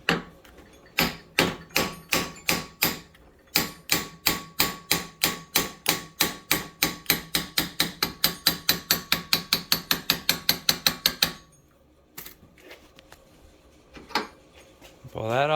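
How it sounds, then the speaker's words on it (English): A hammer repeatedly strikes a stuck car part, a long run of sharp metallic blows in steady rhythm that speed up, then stop, followed by a few quieter clanks and shuffling. "you're going to have to hit this with a hammer"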